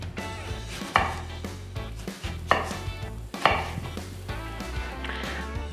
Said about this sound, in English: Few more things to chop.